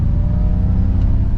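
Ford Mustang Mach-E GT eAWD electric car accelerating on a test drive, a loud, steady low whir and road rumble heard from inside the cabin, unbroken and without talk.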